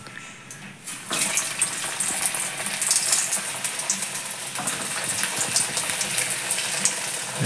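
Potato-filled samosas fry in hot oil with a steady, dense bubbling hiss that runs the whole time, swelling slightly after the first second and staying loud and close.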